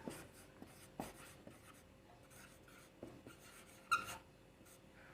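Pen writing an application on paper, soft scratching strokes with occasional taps, very close and quiet with no talk.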